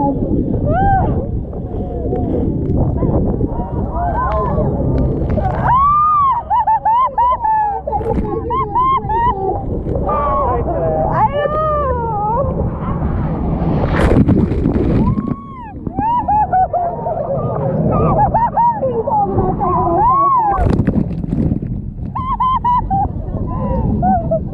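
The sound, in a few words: jet boat ride on the Niagara whirlpool, wind and water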